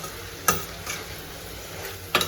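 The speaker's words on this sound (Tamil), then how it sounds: "இப்போ இதை நல்லா மிக்ஸ் பண்ணிக்க வேண்டியதுதான்" Spiced chicken gravy mixture with sambar powder and garam masala being stirred in a pan, a soft steady sizzle punctuated by a few sharp spoon scrapes, close, no talking.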